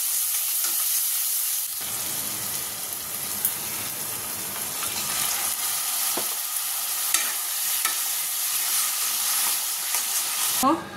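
Salt, turmeric and Kashmiri chili powder sauté in hot oil while a spoon stirs them, producing a constant close sizzle with scraping and clinking.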